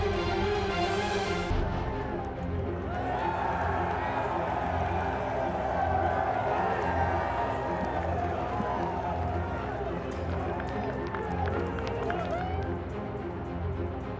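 A golf crowd at the 2021 PGA Championship roars and cheers for Phil Mickelson's birdie, a sustained, broad swell of voices and applause that fills the whole stretch, with talking over it.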